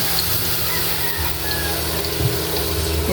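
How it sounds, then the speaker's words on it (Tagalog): Water gushes steadily into a cooking pot for pancit noodles, a continuous close splashing flow lasting about three seconds, with no talking. "Lagyan na po natin ng tubig."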